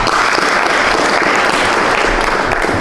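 Audience applause at the closing day of a youth economic empowerment project event: a dense, steady wash of many hands clapping at an even level for the whole stretch, with no voices above it.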